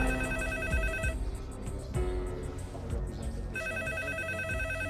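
A telephone rings in repeated electronic bursts with a short gap between them, fairly clear over a low background bed.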